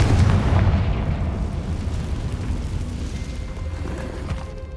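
A Confringo blasting spell in Hogwarts Legacy explodes in a heavy, rumbling boom that hits hardest at the start, then decays into a long, rolling roar of debris and reverberation.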